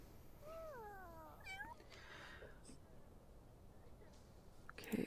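A cat meows in a video game, a few rising and falling meows up close over a low background hum, followed by a brief sharper burst at the end.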